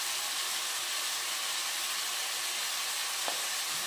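Meat with cumin powder fries in a pan, giving a steady, even sizzle and hiss throughout with one faint click near the end, and no voices.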